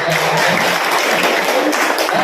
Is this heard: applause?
yes